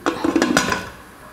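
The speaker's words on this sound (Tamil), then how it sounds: "ஒரு குக்கர் மூடி போட்டு மூடிடலாம்." A pressure cooker lid is set on and closed in a home kitchen while making coconut milk rice: a quick run of close metallic clanks and knocks, then silence.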